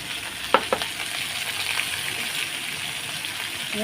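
Spice paste with salt and turmeric frying in a pan for an omelette curry gives off a steady, close sizzle, with a couple of sharp spoon clicks from stirring early on.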